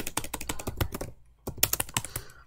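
Rapid keystrokes on a computer keyboard, close and crisp, in a quick burst, a brief pause, then another flurry of typing.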